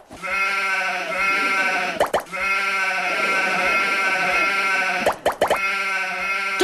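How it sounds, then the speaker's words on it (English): Sheep bleating loudly and continuously at close range, long harmonic calls with two brief breaks near the two- and five-second marks, no speech. "Dolly the sheep."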